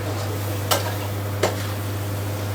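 Crab frying in oil in a pan makes an even, crackling sizzle close by, broken by two short sharp scrapes or clinks a little under a second apart, over a low steady hum.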